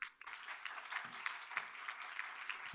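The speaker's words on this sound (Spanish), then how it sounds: "Le damos un aplauso" Steady applause from a panel audience welcoming a speaker, a dense patter of clapping from a modest crowd, fairly distant and even across the whole stretch.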